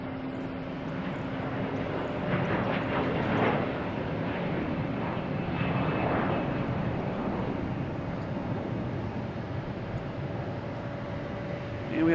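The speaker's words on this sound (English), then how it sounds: "we have a Delta taking off, heading to Richmond" A Delta airliner takes off at Boston Logan heading to Richmond, a moderately loud, broad engine roar that swells in the middle and holds steady, with no talk over it.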